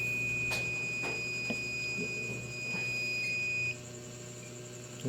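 A faint, steady high-pitched electronic buzzer tone from a microprocessor project's detector alarm sounds continuously, then cuts out near the end, with a few soft clicks and taps around it.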